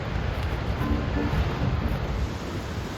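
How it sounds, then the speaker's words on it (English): A powerful waterfall in Juneau, Alaska roars as dense, broadband rushing water. The heavy wash is loud and continuous throughout, with some wind buffeting the microphone and no voices. "As we stood there in awe, we watched the waterfall."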